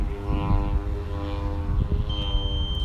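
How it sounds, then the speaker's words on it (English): A propeller airplane drones steadily in the background, its engine hum continuous and moderately distant, with faint outdoor ambience around it. "We got airplanes and drones flying around."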